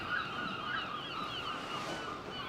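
A seagull calls with a few drawn-out wavering cries over a windy outdoor background, moderately distant and fairly faint, with no talking.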